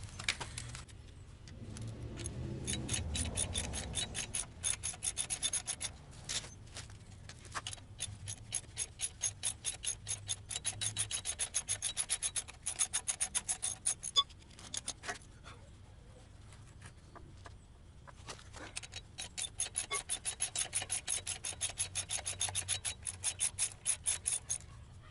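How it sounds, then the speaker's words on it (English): A ratchet clicks in quick runs of rapid pawl ticks while bolts are unscrewed on a Mazda RX8 transmission mated to a Miata engine, close by, with pauses between bursts and some metallic rubbing. "let's go ahead and unscrew him"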